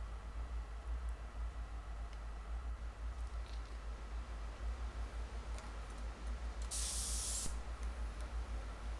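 A Telecaster guitar neck gets a finish spray: one brief, sharp hiss of the sprayer near the end, over a low steady hum and faint ticking.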